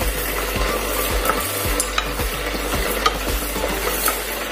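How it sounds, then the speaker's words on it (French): Spices dry-roasting in a pan for an okra sauce make a steady, close, dry sizzle, with rhythmic scraping strokes as they are stirred continuously. "je suis en train de torréfier dans nos épices"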